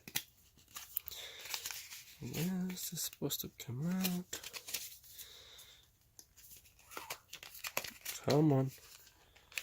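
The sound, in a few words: opening GoPro Hero 7 packaging with scissors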